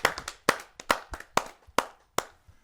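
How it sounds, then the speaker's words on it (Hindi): Scattered handclaps from a small audience at a poetry gathering welcome the next poet, about a dozen sharp, distinct claps in an uneven rhythm, close and isolated. "आइए आपकी जोरदार तालियों से हम उसको आमंत्रित करते हैं।"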